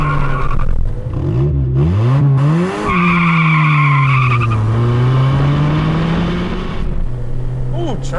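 A Honda EF hatchback chirps its tires while the engine revs up and shifts, rising engine whine with a brief squeal, loud and close from inside the car.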